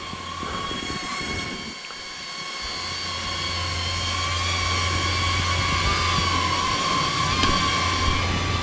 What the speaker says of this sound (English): After subject starts moving, aircraft will fly to set direction.